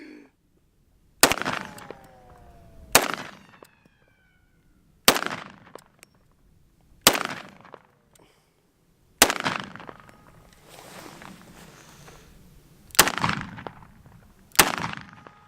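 A Desert Eagle and a Smith & Wesson 500 handgun fire one after another outdoors, seven heavy, sharp reports spaced a couple of seconds apart, each booming loudly and ringing out briefly before the next, with no talking.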